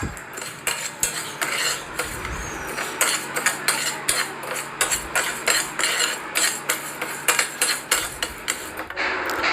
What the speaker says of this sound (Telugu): చింతపండుని కూడా వేసుకొని ఇవి కూడా లో ఫ్లేమ్లో ఫ్రై చేసుకోవాలి